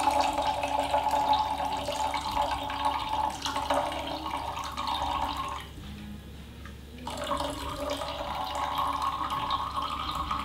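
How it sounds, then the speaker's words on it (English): Ethiopian Zege coffee is poured in a soft, steady liquid trickle, close and fairly quiet, that stops briefly midway and then resumes. "excuse the silence while I'm pouring coffee"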